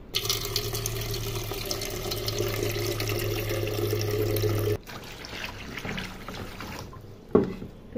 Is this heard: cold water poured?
yes